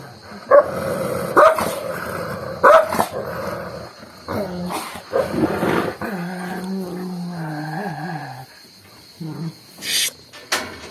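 Several dogs growl, snarl and bark in a scuffle nearby, with sharp yelps and rumbling growls, and a person's voice calls out briefly.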